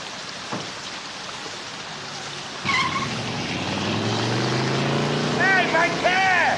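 A car speeds off with its tires skidding, a sharp screech rising into a revving engine that grows louder, with a faint voice beneath.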